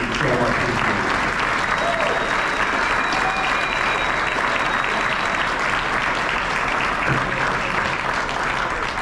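Sustained round of applause from a banquet crowd honoring basketball coaches at a high school end-of-year awards dinner, dense steady clapping throughout with some voices mixed in.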